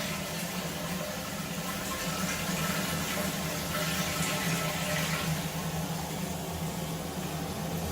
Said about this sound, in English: you can just test it by giving it a flush